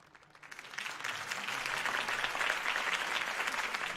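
Crowd applause swells after a campaign speech for Harvey Dent, rising from a quiet start to a steady, dense wash of many hands clapping that holds at full strength to the end.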